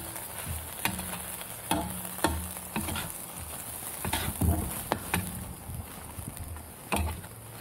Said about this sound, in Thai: พัดให้ใบโหระพามันสุกกันได้ครับ